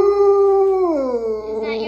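A pet dog howls in one long sustained tone that holds steady, then bends downward and wavers near the end, close and loud with no talk over it.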